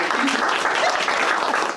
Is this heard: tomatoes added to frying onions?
no